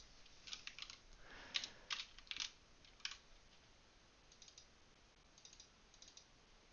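Soft, quick keystrokes on a computer keyboard while entering a formula in mapping software, a few short bursts of clicks then sparse taps, quiet and close with no talking.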